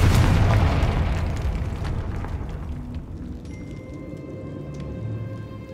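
Explosive fire-blast spell going off in Hogwarts Legacy, a loud booming burst up front that rolls away into a fading rumble with lingering crackle and shimmering tones.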